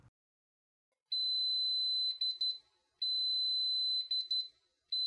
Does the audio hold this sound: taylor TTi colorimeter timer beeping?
yes